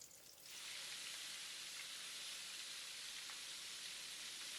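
Prawns deep-frying in a pot of hot oil give off a steady, loud, dense hiss and sizzle that swells up after a quieter opening and holds without a break.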